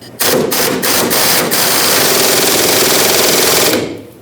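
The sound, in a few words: power tool with 15mm socket removing mounting nut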